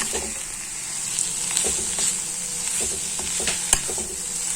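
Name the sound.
clam meat frying in a pan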